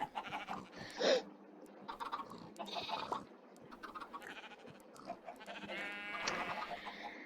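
Sheep bleat in the Animal Craft video game, several short cries scattered across the clip at moderate loudness, with one louder call near the start over a busy game background.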